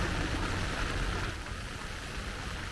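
Steady rain falls at an outdoor pond, a soft even hiss of drops on water and ground, faint and constant with no voices.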